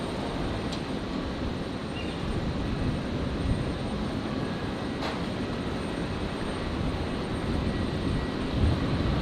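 An Aircalin airliner at Brisbane airport gives off a steady, broad engine roar that holds at an even level for the whole stretch, with no voices.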